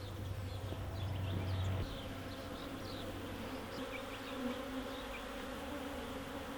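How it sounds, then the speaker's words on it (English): Honeybees buzz continuously close by at a wild hive, a thick, droning hum with individual insects whining past now and then. "All the field bees will come back to this spot"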